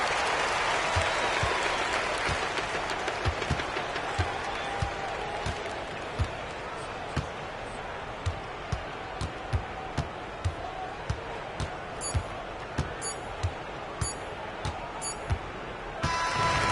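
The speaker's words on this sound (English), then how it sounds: "So the home crowd happy here as they get the victory" A virtual home crowd roars in a basketball video game between Crvena zvezda and Zalgiris, sustained arena noise with rhythmic ball bounces and claps underneath, while a commentator talks over it.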